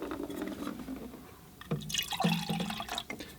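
A small amount of water is poured into a container to prepare for painting with a brush, giving a short, close trickle and light splashing that starts about halfway through after quiet room noise.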